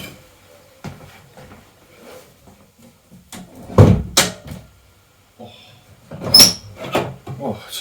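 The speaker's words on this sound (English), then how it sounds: "Oh, I have a door that works." An internal household door being opened and shut after a repair, with a few knocks and clunks scattered among quiet stretches and a louder thump near the end, while a person talks.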